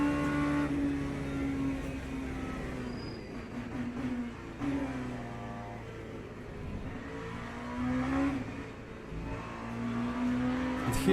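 An LMP3 prototype race car with its mid-mounted engine howls steadily on track, revving up and down through gear changes with a droning tone and faint tire noise, loud and continuous.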